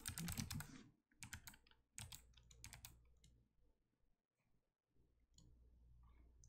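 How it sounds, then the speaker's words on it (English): Quick bursts of key clicks on a computer keyboard, close and fairly quiet, with short pauses between runs of typing and no voices. "so we're just going to type hello world."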